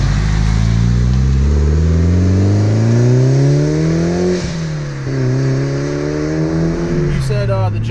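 A modified 2001 Mitsubishi Evolution VII engine pulls hard, heard close and loud from inside the car, its pitch climbing steadily through a gear change and climbing again.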